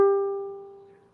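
A standard-tuned ukulele's thin top string is plucked once, ringing out as a clear single note that slowly fades, with nothing else heard.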